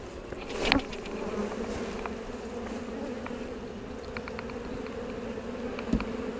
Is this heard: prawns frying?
no